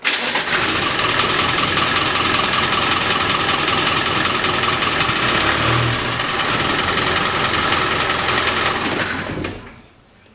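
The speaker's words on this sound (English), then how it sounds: "this is how it started after I pulled it out of the paddock." A Land Rover Defender diesel engine cranks and catches, then settles into a steady, rough idle that runs close and loud before cutting off at the end.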